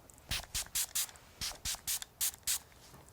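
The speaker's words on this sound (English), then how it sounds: "That was probably about 7 sprays" A face mist spray bottle is pumped onto skin during makeup for dry skin, giving about nine short, close hissing spritzes in quick irregular bursts.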